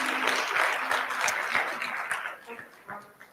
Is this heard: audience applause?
yes